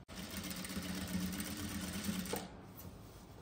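A sewing machine runs steadily as it stitches a Haryanvi daaman skirt, a continuous close whirring hum for more than two seconds that then stops, leaving quiet room noise.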